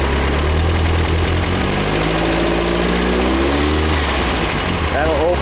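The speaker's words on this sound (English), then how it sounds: "I'll give it a little gas here" A small engine running loud and steady near a relief-valve setup, with its pitch rising as throttle is given, sweeping upward over several seconds before settling.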